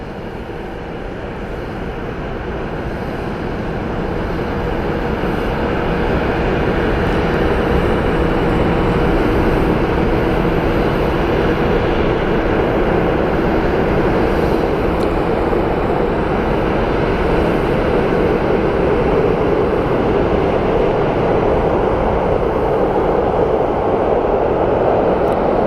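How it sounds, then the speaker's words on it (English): A Southwest Airlines jet at Columbus Glenn Airport gives a loud, steady engine roar that swells over the first few seconds and then holds as a broad rushing drone. "Another Southwest Airlines flight."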